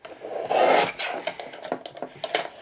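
Paper being trimmed for a handmade card with a sliding trimmer, giving a close rasping scrape followed by a series of short rubbing and clicking strokes, with no talk.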